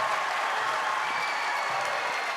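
Crowd applauding at a high school basketball game between two teams, a steady, dense wash of clapping and cheering that fills the whole stretch without a break.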